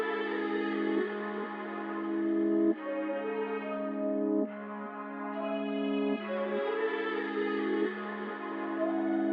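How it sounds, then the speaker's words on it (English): A melodic beat sample made in FL Studio, pitched down two cents, plays as sustained layered chords with chorus and echo effects, changing every couple of seconds at a steady moderate level, with no voices. "So I took my master sample and then just pitched it down 2 cents"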